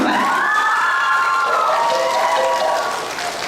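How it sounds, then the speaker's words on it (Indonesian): Applause and cheering from an audience at a language ambassador pageant fill the space evenly, with shouted voices and whistling tones above the clapping, easing slightly at the end. "Saya lagi tepuk tangan untuk Rindi dan juga Ilham Maulana"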